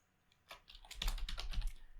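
Quiet, rapid keystrokes on a computer keyboard as text is entered into a field, a short burst of clustered taps building over about a second and a half.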